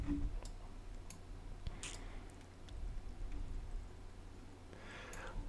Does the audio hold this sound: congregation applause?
no